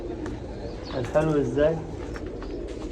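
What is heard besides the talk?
pigeons cooing at a pigeon farm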